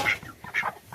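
Ducks in a barn give a few short, close quacks in quick succession, each a nasal burst separated by brief pauses, with no talking.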